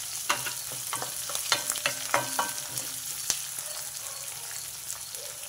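Onions and curry leaves fry in a pan under a soft, constant sizzle, while a spoon scrapes and clacks through them in quick, irregular stirs.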